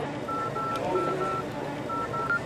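Telephone keypad being dialed, a series of short, steady touch-tones in quick rhythmic bursts, fairly close, with no talking over them.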